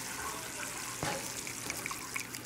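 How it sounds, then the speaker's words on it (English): Rice poured into a pot of boiling water for chicken Bombay biryani, a steady close trickle and pour of grains into the bubbling liquid with a few brief splashes. "Add the rice in there."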